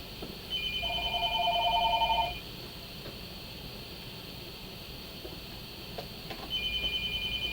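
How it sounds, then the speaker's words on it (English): Phone ringing during a solo Star Wars tabletop role-playing session: two short bursts of electronic ringtone, one from about one to two seconds and another near the end, over steady room hiss with no talk. "As my phone rings on me."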